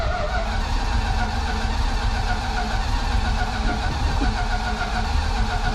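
Plymouth Fury engine cranking without firing, a loud steady whirring churn from the starter that runs nonstop and never catches into an idle.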